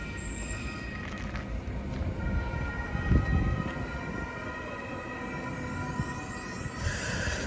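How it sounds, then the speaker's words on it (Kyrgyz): A short single-car U-Bahn train in Germany rolls into a station and comes to a stop, a steady close rumble and rail drone with a swell of wheel noise midway and a faint tone toward the end, no talking. "кыска поезд келди, 1 вагон. Азыр остановканын алдына токтоду"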